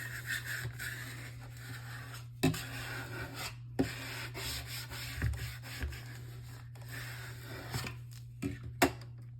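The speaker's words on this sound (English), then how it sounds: "And we'll give it a good burnish." Paper being burnished by hand onto a 5x7 mini album page, giving soft rubbing and rasping strokes with a few sharp taps, close and fairly quiet over a steady low hum.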